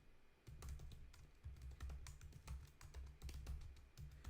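Code being typed on a computer keyboard: close, quick irregular clacks in bursts with brief pauses, steady and alone without any voice.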